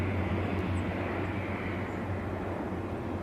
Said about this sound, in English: Cessna back there.